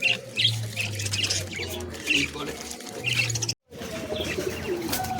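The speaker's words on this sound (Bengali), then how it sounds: "উপরে খাঁচাতে যে পায়রাগুলো সব আপনাদের দেখাচ্ছি" Several caged pigeons at the Sarenga pigeon market in Howrah coo and squawk close by in bursts, with a few chirps, while a person talks intermittently over them.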